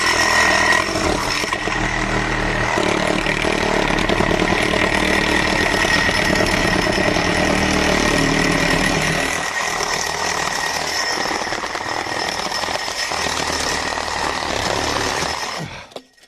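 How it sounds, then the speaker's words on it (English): Saw, wrapped in a trash bag, tearing through a black aluminum alloy camera post: a loud, steady, buzzing cut running for about fifteen seconds before stopping abruptly. "With their saw wrapped in a trash bag, they approach from behind the camera's line of sight and tear right through this black aluminum alloy post."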